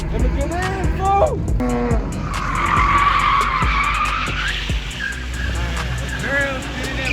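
Infiniti Q50 spinning its tires at a car meet, with loud, sustained tire squeal and engine roar rising and falling over several seconds while people shout nearby.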